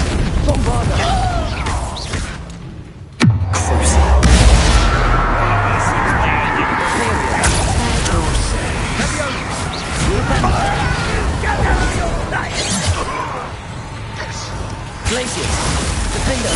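A Bombarda blasting spell explodes in a video game with one sharp, loud crash followed by a deep, fading rumble, set within a constant bed of game noise and voices.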